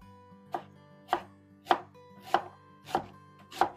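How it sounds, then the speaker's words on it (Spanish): An onion being cut into wedges with a knife on a board, six evenly spaced crisp chops about half a second apart, close and clear with nothing else heard. "Continuamos con la cebolla. Vamos a sacarla también como en gajos"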